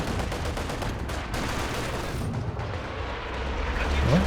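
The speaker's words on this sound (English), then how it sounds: "Mortar again." Mortar fire in Company of Heroes 2 rumbles through a dense, continuous wash of battlefield noise, with low booms and crackling gunfire blending together and a deeper thud building near the end.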